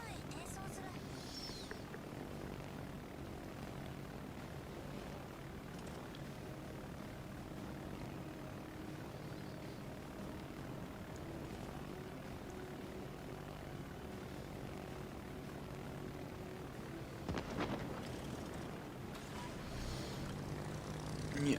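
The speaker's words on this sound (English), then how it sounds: "Get the torpedo bombers diving." Aircraft engine drone of torpedo bombers diving in World of Warships Legends, a steady propeller hum continuing throughout with dense game noise and a brief louder swell near the end.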